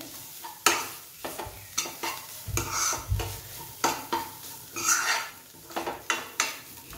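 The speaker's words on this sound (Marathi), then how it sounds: "यातच आपण कांदा, अद्रक, लसूण आणि कोथिंबीरीची पेस्ट परतून घेणार आहोत" Onion, ginger, garlic and coriander paste sautéing in a pan for stuffed okra, with a spoon scraping and clinking against the metal in irregular strokes over a soft, steady sizzle, close and clear with no talking.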